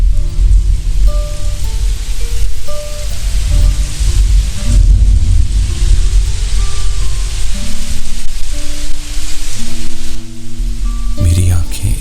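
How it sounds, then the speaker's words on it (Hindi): Heavy rain pours in a continuous roar at a railway platform, mixed with low rumbling and sustained musical tones, with a brief clattering burst near the end. "वहां जोर की बारिश हो रही थी"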